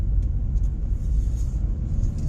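A 2011 car rumbles steadily while driving, with low, continuous road and engine noise filling the cabin and no voices.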